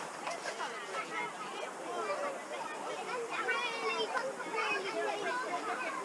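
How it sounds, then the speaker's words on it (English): A large group of school children walking past in a line chatter and call out together, a lively babble of many young voices, fairly close. "the sound of a large crocodile of school children on their way to the farm"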